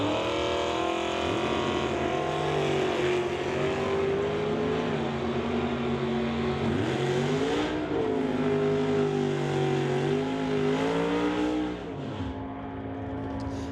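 A pickup truck and a Chevrolet drag race at a National Tire non-electronic series event, engines roaring loud and continuous as they rev and shift with rising and falling pitch, easing off near the end.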